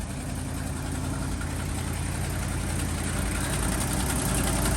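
A 1974 Ford F350 dually truck idles at high idle after starting, a loud, steady, dense engine rumble with constant vibration, close up and unchanging throughout.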